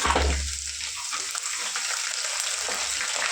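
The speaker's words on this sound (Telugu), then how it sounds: "ఎక్కువ ఫ్రై అవుతుంది ఎల్లిపాయ" Chopped garlic sizzles in hot oil as a tempering for a raw mango pickle, giving a continuous close crackling hiss after a brief low thump at the start, with no voices over it.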